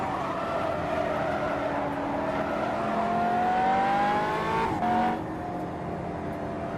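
Race car engine in the Simraceway racing game, revving up steadily through a gear before dropping sharply, with tyres skidding briefly near the end, loud and close with no talk.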